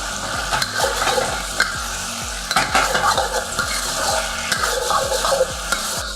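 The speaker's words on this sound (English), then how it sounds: "That is stir fry." Chicken and capsicum stir fry sizzles steadily in a pan while a utensil scrapes and knocks against the metal in a regular rhythm, loud and close, with no voices.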